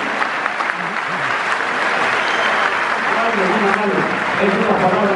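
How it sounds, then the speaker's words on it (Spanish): Applause for a guest at a 25th-anniversary music show, a loud continuous wash of crowd clapping with voices mixed in underneath, steady across the whole stretch. "otra vez el aplauso para el señor Lorenzo"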